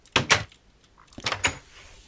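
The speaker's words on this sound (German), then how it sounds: "Tür platzieren" A door is placed in Minecraft, giving two quick wooden knocks, then after a brief pause another pair of similar knocks, close and crisp with no talk.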